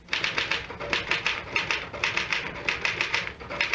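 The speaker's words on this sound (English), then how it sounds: "the typewriter, or rather, Mr. Gann, does all the brain work" A mechanical typewriter clatters in a steady, rapid run of keystrokes, loud and close throughout, with no voices, set in an old radio mystery drama.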